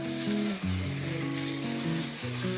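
Water hits a hot, lightly oiled dosa pan and sizzles with a steady hiss under fairly loud background music, with no talking.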